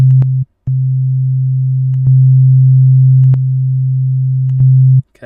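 A pure, low, steady sine-like tone from an Ableton Operator synthesizer in FM mode drones loudly with no talking. Brief clicks break it, with one short gap near the start, and its level steps up partway through.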